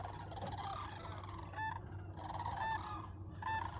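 Sandhill cranes call while landing along the Tennessee River in winter, a flock giving repeated rolling, bugling cries in bursts over a constant low outdoor rumble.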